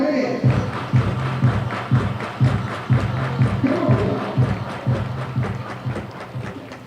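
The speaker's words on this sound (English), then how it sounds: "Everybody clap your hands" A baseball stadium crowd claps in a steady rhythmic beat, loud repeated thumps about twice a second, with voices mixed in underneath.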